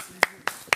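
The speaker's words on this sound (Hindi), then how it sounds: "तो भाई तालियां हो" On the set of a Hindi reality TV show, three sharp, separate hand claps ring out at an even pace, close and crisp, over quiet background hum.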